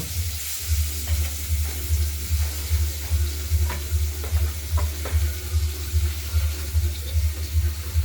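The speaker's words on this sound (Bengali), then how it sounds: "মাছগুলো নুন হলুদ মাখিয়ে তেলে ছেড়ে দিলাম তেল আগে গরম হয়ে গিয়েছিল" Rohu fish pieces coated in salt and turmeric sizzle in hot oil, a loud, steady frying hiss with faint stirring and clinks throughout, close up and without speech.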